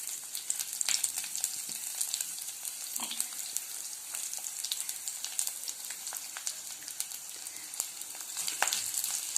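Chopped onions and garlic sauté in an oiled pan for a beet root dish, giving a steady bright sizzle with scattered crackles and occasional stirring scrapes, close and alone without voices.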